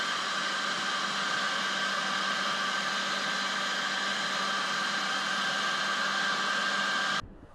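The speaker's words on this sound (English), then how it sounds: "we're going to put some shrink wrap on here and heat it up with a heat gun" A heat gun shrinks heat-shrink tubing over a soldered wire, giving a loud, steady blowing hiss with a fixed whine that runs unbroken for about seven seconds before cutting off abruptly.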